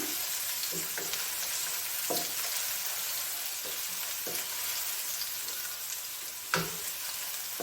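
Ginger garlic paste frying on a medium flame for spicy chicken spaghetti gives a steady, even sizzle, with a few soft stirring clicks and one sharper scrape near the end, and no voices.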